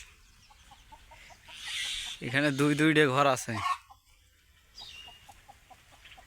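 Chickens at a farm chicken house give soft, rhythmic clucks before and after a stretch where someone speaks close by.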